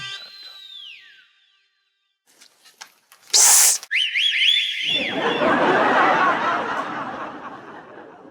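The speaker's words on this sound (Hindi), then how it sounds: "अबे कौन सीटी बजा रहा है तू?" A person whistles a made-up tune indoors, a bright sliding whistle run that gives way to a loud, sustained burst of whistling over a busy background.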